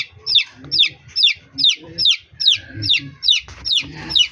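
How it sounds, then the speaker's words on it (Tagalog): A lone pigeon chick cheeps loudly and repeatedly in a steady rhythm, about ten sharp calls evenly spaced, close up with soft rustling underneath. "Ingay ng sisiw natin ah."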